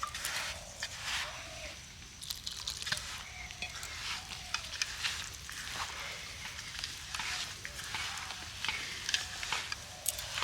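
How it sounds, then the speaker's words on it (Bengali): Rice flour dough for chitoi pitha being kneaded by hand with warm water: soft, repeated squelching and slapping strokes in a steady rhythm, close and fairly quiet. "অল্প অল্প জল দিয়ে কিন্তু এইভাবে ভালো করে মেখে নিতে হবে।"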